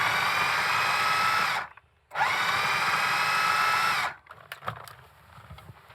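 A food processor pulses a nut protein-ball mix in two long loud bursts of whirring motor with a brief stop between, then a short quieter patch of clatter and shuffling.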